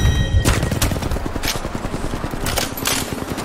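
Peacekeeper shotgun in Apex Legends firing in a fast burst of loud, close blasts, mixed with other gunfire and impacts.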